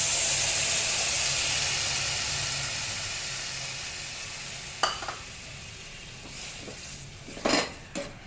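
Water is poured into a hot pan for a Bengali egg-and-potato curry and bursts into a loud hiss that slowly fades, followed by a few clinks of utensils against the pan.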